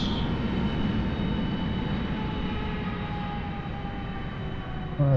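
A simulated airplane engine in Microsoft Flight Simulator 2020 drones steadily at an airport terminal area as the plane readies for takeoff, a constant broadband rumble with a faint whine that holds level throughout, with no talk.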